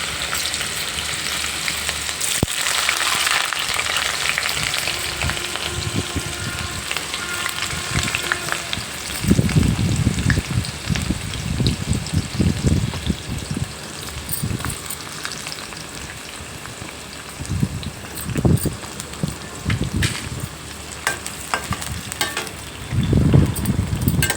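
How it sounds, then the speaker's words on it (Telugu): Onions frying in very hot oil for an Andhra-style mutton fry, giving a steady, dense sizzle close by with bursts of stirring and spatter in the second half, and no talking. "బాగా వేగాలండి ఉల్లిపాయలు. ఉల్లిపాయలు అయితే బాగా వేగాయండి."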